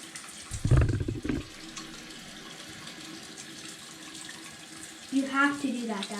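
Water splashes and gurgles into a small put-put boat in a tub as it is primed, two short close bursts of pouring, then a quieter stretch before a third splashy trickle near the end.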